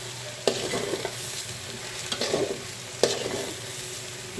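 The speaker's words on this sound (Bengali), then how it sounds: "পোলাওর জন্য আমি পেঁয়াজ গরম মশলা দিয়ে তেলের উপর ভাজতেছি" Pulao rice with onion, garam masala and a little ginger frying in oil, a continuous sizzle broken by a few sharp stirring scrapes, close and fairly loud, with no talk.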